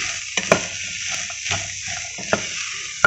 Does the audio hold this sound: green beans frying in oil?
yes